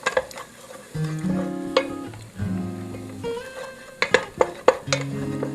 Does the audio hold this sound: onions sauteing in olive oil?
yes